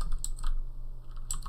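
Keys on a computer keyboard clack in a few quick, light taps, close and clear over a low steady hum, with a short pause before a final pair of strokes.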